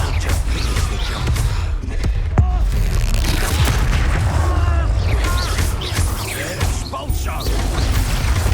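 A Confringo fire spell bursts with a heavy boom in Hogwarts Legacy, its rumbling blast layered over dense, continuous game combat noise and crackling effects.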